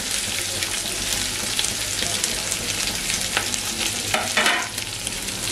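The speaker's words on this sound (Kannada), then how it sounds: "ಇದು ಚೆನ್ನಾಗಿ ಫ್ರೈ ಆಗಲಿ." Biryani ingredients frying in a pan with fenugreek leaves, a steady dense sizzle throughout with a brief stirring scrape near the end, close and loud with no talking.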